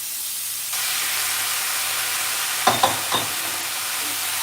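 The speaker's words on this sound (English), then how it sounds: "You're going to immediately mix them on high heat so your noodles pick up the color and gets toasted as well" Noodles sizzle and hiss steadily in a hot pan over high heat, a loud continuous frying roar with a few sharp scraping clanks of stirring near the end.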